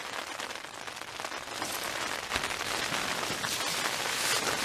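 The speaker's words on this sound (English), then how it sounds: "the rain started off with just a light pitter patter" Steady rain pattering on surfaces nearby, a dense hiss of drops that grows slightly heavier toward the end.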